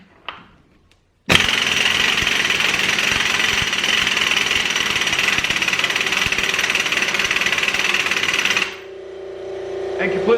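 An impact wrench hammers loud and steady for about seven seconds, spinning against a penny wedged between two gears during a KTM EXC 525 engine teardown, then cuts off abruptly into quiet shop noise.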